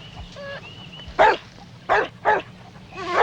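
A dog named Timmy barks three times in short sharp bursts, close and loud, with softer whimpering yips in between.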